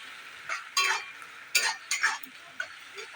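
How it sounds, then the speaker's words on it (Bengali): Ridge gourd fries in a pan with a paste of mustard, poppy seed, coconut, green chilli and cumin, giving a soft sizzle and several short, close scraping stirs. "দিয়ে ভালো করে কষিয়ে নেব।"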